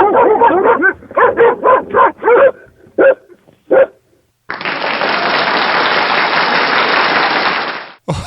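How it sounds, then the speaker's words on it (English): A listener-submitted recording of a dog barking energetically, a quick run of sharp close barks with a few spaced yips, then a long stretch of steady broadband noise like applause or rushing. "A very energized bark, that one."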